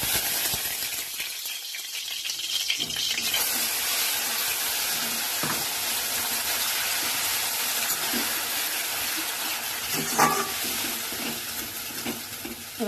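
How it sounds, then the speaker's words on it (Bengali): Continuous sizzling and frying hiss as spice paste hits hot oil in a pan for a quick egg dish, with occasional stirring clatter and scrapes over the steady crackle; no talking. "এবার আমি এই মশলাটা ঢেলে দেবো"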